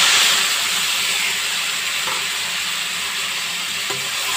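Boiled banana flower fries with sugar in a hot pan, giving a steady, close sizzling hiss throughout with faint stirring scrapes.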